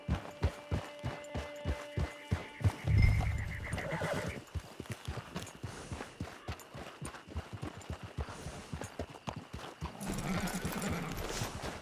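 Horse in the Red Dead Redemption 2 video game, a sharp whinny near the start followed by a steady run of clip-clopping hooves and another burst of neighing toward the end.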